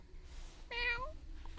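A single close cat meow, short and clear, rising then falling, heard alone against a quiet room.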